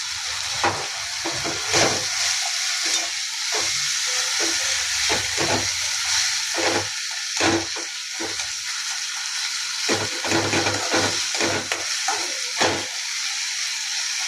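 Finely chopped onion fries in a pan with a steady, bright sizzle and hiss, broken by frequent scraping strokes of stirring throughout, close and fairly loud with no talking.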